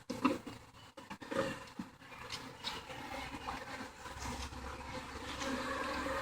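A steady, dense buzzing of many honey bees close by as they go into a temporary hive, continuous throughout with a low hum swelling slightly toward the end.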